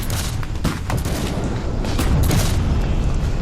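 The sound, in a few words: heavy enemy gunfire, battle of Gettysburg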